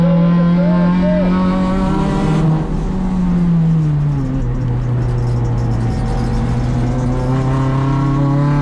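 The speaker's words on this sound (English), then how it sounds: "GT car goes on by, and our position's gone." GT race car passing on the track at Sonoma Raceway, its pitch dropping as it goes by, heard from inside another race car over that car's own loud, steady engine drone.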